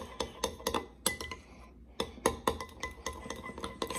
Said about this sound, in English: So just gonna mix that up and see what color it turns.